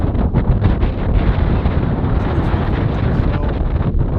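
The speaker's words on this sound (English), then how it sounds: "It's super windy up here." Loud, steady wind on a snowy mountain at about 2100 m roars and buffets the microphone without a break, a harsh rushing noise that lasts throughout.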